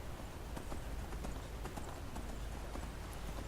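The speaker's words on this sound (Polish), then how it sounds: "Jak już zaczęłam się poruszać na tym koniu" Horse hooves clip-clopping at a steady pace while riding in the video game Skyrim, faint and even, alone without talk.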